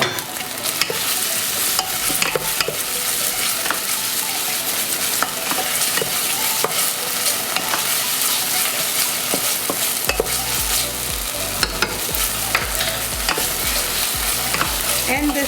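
Chopped garlic frying in oil in a pan for stewed red beans, a dense steady sizzle and crackle with repeated scraping stirs of a utensil, close and constant throughout, growing fuller toward the end.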